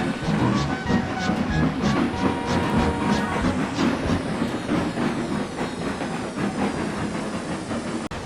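Steam locomotive hauling goods trucks pulls out of a station, a loud continuous rumble with rhythmic chuffing and rail clatter that holds steady throughout, ending in a brief click.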